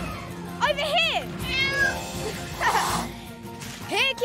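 A cartoon cat meows several times, rising and falling cries that come in bursts at the start, middle and end, loud and close, over a steady soft background hum with some speech.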